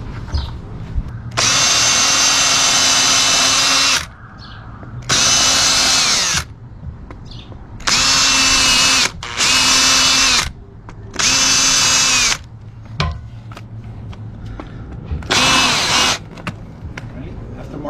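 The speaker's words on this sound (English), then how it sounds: "So you gotta pre-drill so you don't crack that wood." A power drill whirs in several short bursts, drilling into wood, with pauses and faint talk and handling noises between runs.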